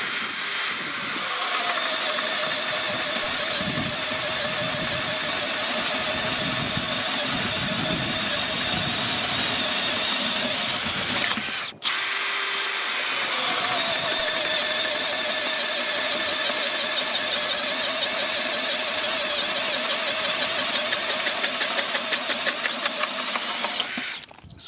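A Parkside Performance brushless 20 V drill driver whines steadily and loudly as it cuts with a 74 mm hole saw, pausing briefly midway before spinning up again for a second long run.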